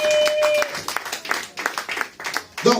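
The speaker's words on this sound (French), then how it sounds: "Et acclamez très fort pour la gloire du Seigneur." A church congregation at a Sunday worship service claps and cheers for a few seconds, a loose crowd of applause with voices rising over it near the end.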